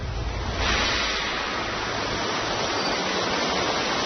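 Heavy water rushing down a steep canyon drop of about forty feet in the Sumatra jungle, a continuous loud broadband roar that swells slightly after the first moment and holds steady throughout.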